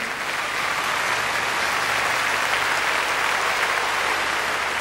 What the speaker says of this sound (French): Alors je crois que vous pouvez les applaudir très très fort,